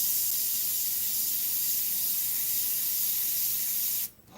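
An Iwata CM-SB airbrush sprays Createx paint onto Claybord in a steady, close, continuous airy hiss that holds for about four seconds and then cuts off abruptly.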